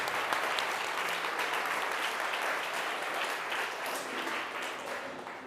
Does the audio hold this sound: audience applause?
yes